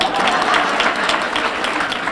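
An audience at the Delta Sigma Theta sorority's centennial celebration breaks into loud, steady applause, a dense wash of many hands clapping throughout with faint crowd voices underneath.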